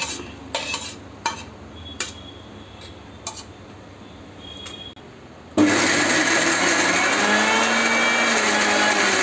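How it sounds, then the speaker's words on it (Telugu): A mixer grinder roars into a loud, steady whir, blending fried mint into chutney after a few light clinks and taps of kitchenware. "వేసుకున్న తర్వాత మళ్ళీ ఒకసారి గ్రైండ్ చేసుకోవాలి."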